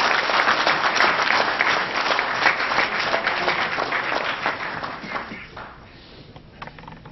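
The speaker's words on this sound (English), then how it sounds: "Help me in welcoming with thunderous round of applause, Syed Waheed." An audience at a National Award for Teachers felicitation gives a full round of applause to welcome a speaker. The loud, steady clapping thins and fades out over the last couple of seconds.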